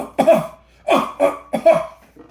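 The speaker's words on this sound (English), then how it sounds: "How long have you had that cough?" Three or four harsh coughs in quick bursts, close and fairly loud, with short pauses between them and a faint quieter one at the end.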